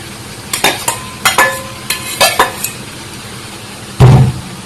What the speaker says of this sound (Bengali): এখন আলু দিয়ে ভালোভাবে নেড়ে ছেড়ে নিয়ে নেব